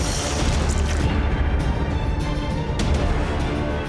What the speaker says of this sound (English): Nature's Fury is an explosive projectile.